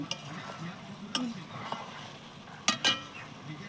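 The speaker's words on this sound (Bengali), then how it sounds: "মাছ দিয়ে দিলাম, একটু হালকা নেড়ে নেব যাতে মশলাটা ওদিক ওদিক হয়ে যায় চার সাইড" Fish pieces for doi katla are stirred in spice masala in a hot pan, giving a soft steady sizzle with a few sharp scrapes of the spoon against the pan, close up.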